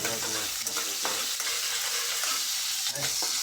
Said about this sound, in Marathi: अद्रक लसूण मिरची फ्राय करून घ्यायची.